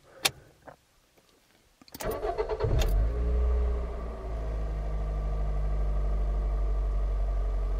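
A Toyota engine, just fitted with a new variable valve timing control valve, cranks briefly after a few faint clicks, catches and revs up, then settles into a steady, loud idle.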